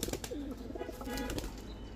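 Pigeons at a pigeon farm give soft, wavering coos close by, with a few sharp rustles and flutters of wings around them at a low level.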